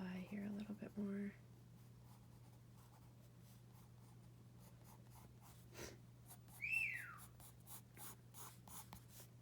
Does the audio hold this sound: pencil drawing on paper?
yes